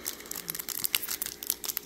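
Plastic trading card booster pack, an Outlaws of Thunder Junction play booster, being crinkled and pulled at by hand in a struggle to tear it open, with continuous close, irregular crackling and rustling and no talk.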